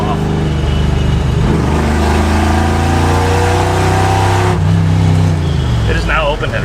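A car's engine roars loudly from open headers after the exhaust fell off on an old station wagon, a close, continuous growl with shifting revs as it drives, with someone talking over it.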